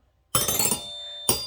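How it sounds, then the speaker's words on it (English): A toy xylophone is struck near the mic, a bright ringing hit with a short bubbly jangle that sustains and fades, then a second strike lands about a second later. "Really cool xylophone."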